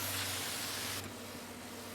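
Loud hissing spray of a compact tractor's PTO-driven pressure washer blasting water, steady broadband noise that drops slightly in level partway through.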